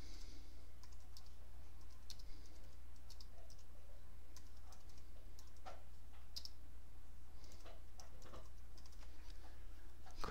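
Light, rapid clicks of a computer keyboard as a file name is typed, irregular bursts of keystrokes over a low steady hum, close and fairly quiet with no talking.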